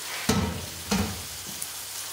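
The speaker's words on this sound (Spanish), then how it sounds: "Pues directamente lo echamos al sartén, dejamos que se nos dore un poquito." Turbot laid into a very hot frying pan, with two sharp bursts of sizzling close by that settle into a quieter frying hiss.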